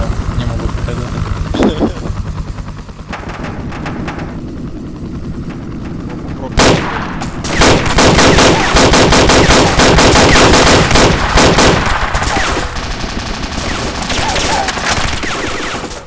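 ArmA 2 game gunfire: bursts of rifle and machine-gun shots, sparse at first, then dense, loud rapid volleys from about seven seconds on, with a helicopter-like drone underneath.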